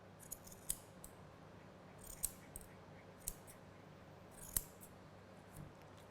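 Grooming scissors snipping a poodle's fur straight across the eyes, a few sharp, quiet metallic snips spaced irregularly, close up over a faint, low background hum and no talk.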